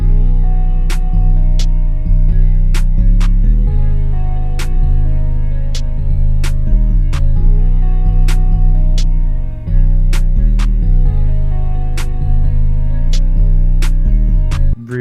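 A simple trap beat made in FL Studio thumps with booming 808 bass under a melody, while sharp snare hits crack at regular intervals across the whole loud loop.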